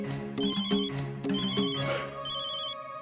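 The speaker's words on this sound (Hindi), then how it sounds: "हमारी धर्मपत्नी का फोन है" A phone rings with an incoming call from a man's wife, a repeating electronic melodic ringtone in short bursts that fades toward the end, moderately quiet with no talking.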